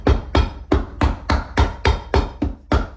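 Hammer blows drive leather top lifts onto a boot heel during resoling, with a Vibram Mini Lug sole. About nine sharp, loud, close strikes land at a steady rhythm roughly every third of a second, with no talk.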